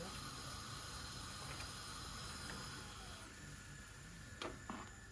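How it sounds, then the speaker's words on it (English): Pot of rice boiling in water with salt and oil: a steady, continuous bubbling hiss at moderate distance, with a couple of faint clinks near the end. "So now that my rice has come up to a boil"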